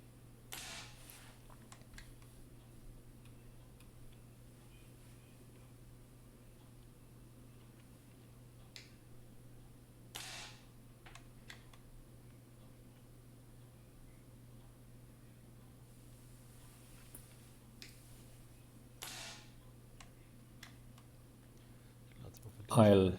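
A Diana XR200 air rifle fires several separate sharp cracks spaced seconds apart, with faint clicks of loading between shots, against a quiet background with a low hum.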